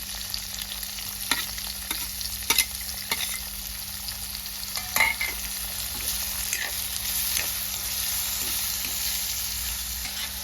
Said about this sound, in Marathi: तेल तापलं आहे आणि आता त्याच्यात कांदा टाकते